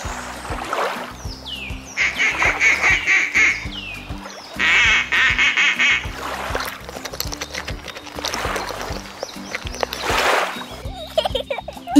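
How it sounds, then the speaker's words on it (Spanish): Several bursts of nasal duck quacking come and go over a busy background with some rumbling, loud and close. "¡Un pato con sus patitos!"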